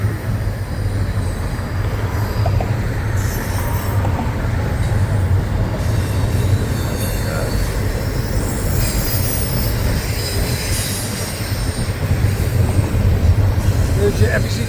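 Florida East Coast (FEC) freight train loaded with containers and trailers rolls past, a steady continuous rumble of wheels and cars with squealing wheel noise, loud and close throughout.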